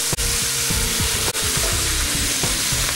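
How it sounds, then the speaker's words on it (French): Vegetable garnish pieces browning over full heat in a pan for a traditional veal stock, giving a loud, steady sizzle and frying crackle close up, with a couple of brief stirring knocks. "je laisse le feu à fond parce que je vais colorer aussi les morceaux de garniture avant de rajouter le liquide"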